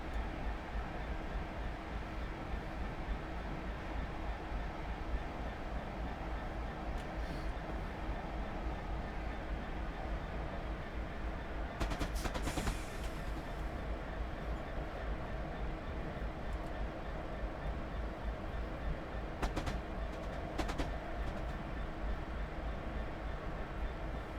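A Class 66 freight locomotive runs steadily on the Cannock Freightliner Terminal to Felixstowe route in the game Train Simulator, giving a continuous loud rumble with a few brief clanks.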